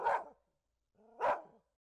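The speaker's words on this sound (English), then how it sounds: "The dog is noisy." Two loud, close dog barks from an indie horror game, about a second apart, with silence between them and no voices.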